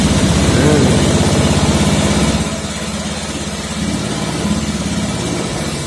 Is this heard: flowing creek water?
no